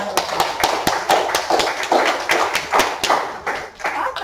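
Audience at a community board meeting in Williamsburg claps, a loose run of distinct, uneven claps and thumps close by that thins out briefly toward the end.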